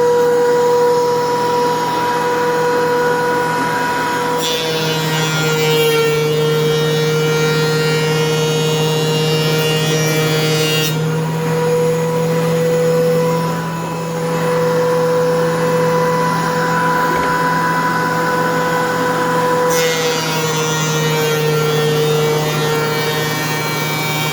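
A dust collector attached to a DeWalt DW735 thickness planer runs with a loud, steady motor drone and rushing air, shifting in intensity a few times over the run, with no voices.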